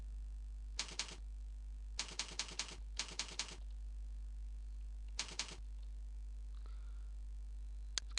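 Bursts of rapid key clicks from a computer keyboard while typing text into MS Word, in short clustered runs separated by quiet pauses, close and fairly faint.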